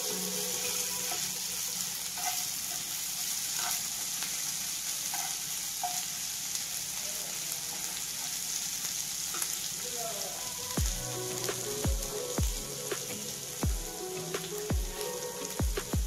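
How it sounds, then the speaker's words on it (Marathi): Ginger and chilies roast in a pan on a low flame, gently sizzling, soft and steady, followed by a series of sharp clinks and taps from stirring near the end. "त्याच्यामध्ये आता भाजून घेऊ, अगदी मंद आचेवर भाजायचे"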